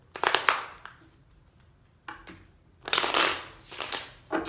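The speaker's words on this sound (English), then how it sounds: "give a few shuffles here" Tarot cards are riffled and shuffled close up in several quick bursts separated by short pauses, crisp papery flutters with no talking.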